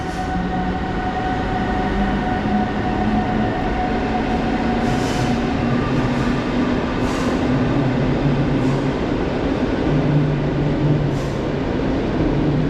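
The Intercity Konopnicka train to Wrocław pulls out of Warszawa Centralna station with a loud, continuous rumble of wheels on rails, broken by faint rhythmic clicks and occasional high squeals, close and steady throughout.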